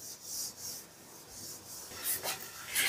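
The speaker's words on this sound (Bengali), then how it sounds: "এবার নুন, হলুদ আর তেলটা দিয়ে মাছটা বেশ ভালো করে মেখে নেব" Rui fish being rubbed by hand with salt, turmeric and mustard oil, giving soft, close, continuous squishing and rubbing sounds with a few brighter wet smears near the end, no voices.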